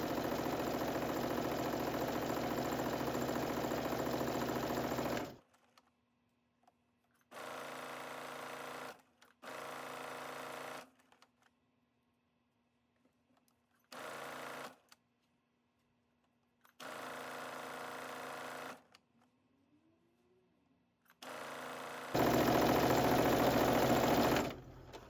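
A sewing machine stitches a sweatsuit waistband with a 3/8-inch seam, running in loud close bursts of rapid whirring stitches separated by short silent pauses, with longer steady runs at the start and end.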